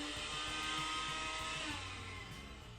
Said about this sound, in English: I'm gonna say blender.